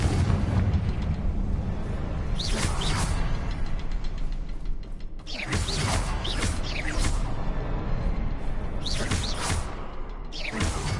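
A Confringo blasting spell explodes in Hogwarts Legacy. A sustained, roaring, rumbling blast carries crackling bursts and creaking debris that keep coming in loud waves for several seconds.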